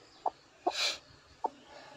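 A brooding hen sitting on her eggs gives a few soft, low clucks close by, separated by short gaps, with a brief rustle of movement among them.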